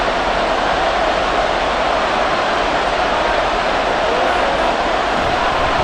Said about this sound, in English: this crowd trying to force a false start here